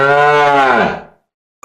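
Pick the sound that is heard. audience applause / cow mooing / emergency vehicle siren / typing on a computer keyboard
cow mooing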